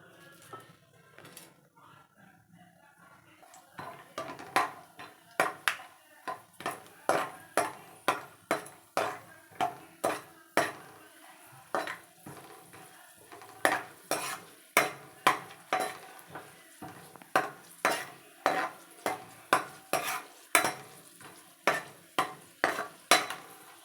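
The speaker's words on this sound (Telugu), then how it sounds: "కొంచెం వేడయ్యాక అవన్నీ ఇందులో వేసి వేయించుకోవాలి" A metal spoon stirs ingredients frying in a pan for rava kesari, tapping and scraping in a steady run of sharp clinks that grows busier after a few quiet opening seconds, with no voices.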